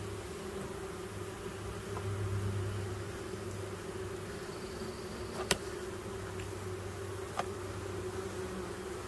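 Honey bees in wax-building mode buzzing steadily around a hive with freshly drawn natural comb and honey supers, a continuous close drone with a couple of faint clicks.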